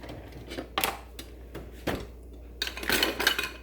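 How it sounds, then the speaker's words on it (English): A silicone spatula scrapes and taps around an omelet in a non-stick pan, several short clicks and knocks followed by a busier cluster of scraping at the end. "To scrape the edges of the omelets."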